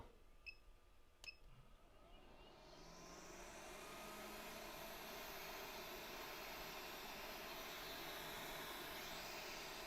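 A hot air rework station set to 350 degrees blows a steady, loud broadband rush of air that swells up after a couple of faint clicks and then holds constant to the end, with no talking.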